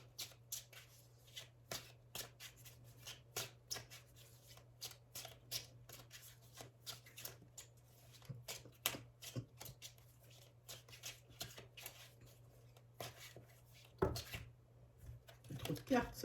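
Tarot cards riffled and shuffled close by, a quiet run of rapid papery flutters and taps in repeated bursts, with a person talking softly underneath.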